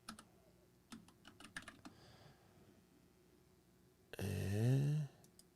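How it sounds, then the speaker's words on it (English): Someone types on a computer keyboard in quick irregular bursts of light key clicks, then a louder whooshing, tonal sound swells briefly near the end. "Man, you can't type, Doc."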